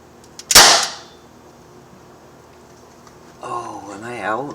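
One sharp, close crack from an Umarex Legends Luger .177 caliber air pistol near the start, followed by quiet and then someone talking.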